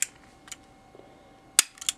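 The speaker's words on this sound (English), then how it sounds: "When you pull the trigger, it goes down. You just dry fired." An S&W Sigma CO2 blowback airsoft pistol is dry fired, giving a few crisp metallic clicks and snaps close to the microphone, spaced irregularly over a quiet room background.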